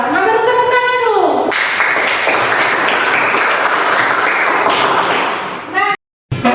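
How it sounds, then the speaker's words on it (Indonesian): Classroom applause from students in an Islamic studies lesson, a burst of dense clapping lasting several seconds before cutting off abruptly, with a teacher's voice briefly at the start and end. "tepuk tangan dulu"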